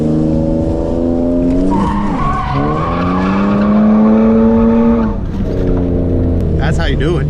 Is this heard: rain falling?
no